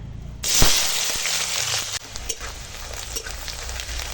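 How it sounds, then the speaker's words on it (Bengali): Chopped onions dropped into hot oil in a wok for a crab curry burst into a loud, close sizzle that then settles into a steady hiss with a few stirring knocks. "কড়াতে দিয়ে দিয়েছি তেল আর হয়ে গেছে তেল গরম তো এখন দিয়ে দেবো পেঁয়াজের কুচো"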